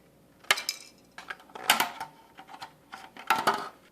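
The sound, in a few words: cutting out trays of Kracie Popin' Cookin' donut kit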